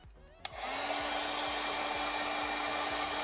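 A hair dryer clicks on and blows steadily and close up to dry a painting done with Neocolor II wax pastels, a continuous airy whoosh with a faint motor hum underneath, running alone without talk.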